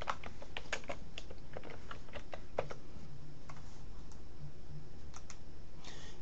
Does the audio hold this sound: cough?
no